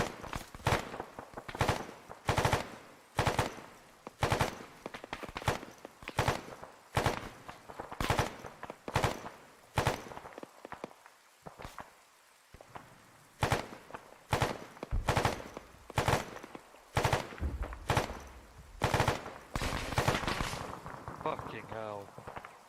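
In Arma 3, machine gun fire crackles in sharp bursts spaced through the clip, some loud and close, others fainter, while players talk over the shooting.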